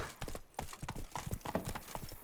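Roach the horse gallops in The Witcher 3, a steady clip-clop of hooves pounding in a fast rhythm, close and continuous over a low background bed.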